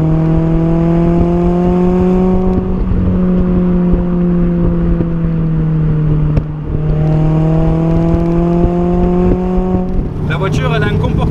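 A Mazda MX-5 30th anniversary edition with a non-factory aftermarket exhaust line revs loudly from inside the car, rising past 4000 rpm in two long sweeping pulls with a gearshift dip between them.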